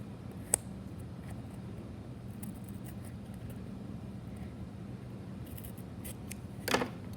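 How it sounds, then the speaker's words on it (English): Scissors make small, deliberate cuts: two sharp, separate snips, one early and one near the end, over a steady low background hum with no talking. "we're just gonna do a little tiny cut and stop, a little tiny cut and stop, little tiny cut, all the way around"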